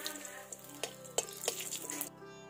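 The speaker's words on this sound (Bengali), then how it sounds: "হালকা একটু ভেজে নিচ্ছি।" Whole spices (bay leaves, cracked cardamom, cinnamon and cloves) fry lightly in mustard oil, giving a soft, steady sizzle with a few scattered pops and clicks.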